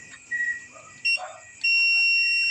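A continuity tester's steady electronic buzzer tone sounds in short bursts while testing an electric motor's winding, then holds continuously at the end, clear and close with faint background noise.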